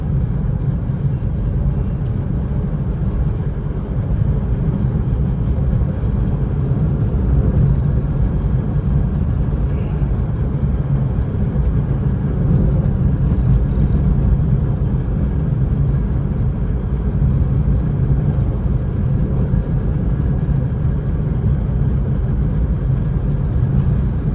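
A car engine running steadily during a first-day driving lesson: a continuous low rumble and road hum that holds at an even level throughout, with no speech.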